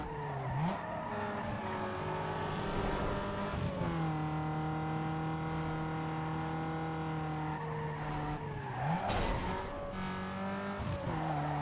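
A car races uphill in Need for Speed Underground 2, its engine droning loudly and climbing through gear changes, with tire squeals and skids breaking in near the start and around nine seconds.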